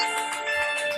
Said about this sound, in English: Who has the phone?